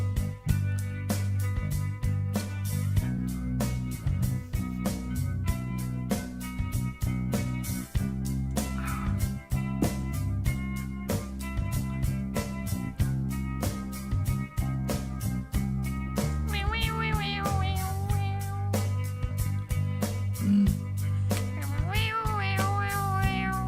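A cat's meows edited into a melodic cover of a song, sustained pitched meow tones following the tune over a steady, loud instrumental backing track that runs throughout.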